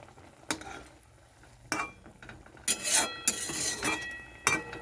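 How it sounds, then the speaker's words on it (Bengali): Fish roe cooked with mustard paste is turned over in a frying pan, with a utensil clinking and scraping against the pan in several short knocks over a soft background sizzle. "এখন আমি এটা ওপর নিচ করে দিচ্ছি তলাপিঠটা ওপরে করে দিলে ভালোভাবে সিদ্ধটা হবে"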